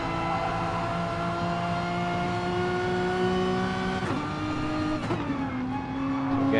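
Race cars in Gran Turismo Sport during an FIA Nations Cup exhibition race, engines droning steadily at high revs before dropping sharply twice as the cars brake into a corner, loud and close with no talk.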